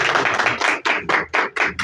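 An audience claps in a steady, rhythmic burst of loud, close claps for a tongue-twister performance on a comedy show, with no talk over it.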